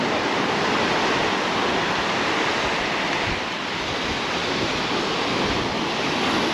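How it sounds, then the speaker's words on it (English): Sea waves surge onto Playa de Palma beach in Mallorca under a strong breeze, a steady, loud broadband wash with wind buffeting the microphone throughout and no voices. "Well, lovely waves again, which is accompanying the strong breezes that we're getting"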